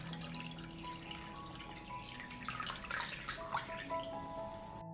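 Water pours into a pot holding glass jars set on a cloth at the bottom, filled up to the height of the jar lids before pasteurizing preserved summer fruit; a steady, moderately faint splashing trickle runs for several seconds.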